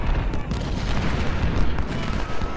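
Musket volley gunfire in the Civil War video game Ultimate General: Civil War: a dense, rumbling wash of distant massed shots and booms, continuous and crackling rather than distinct single reports.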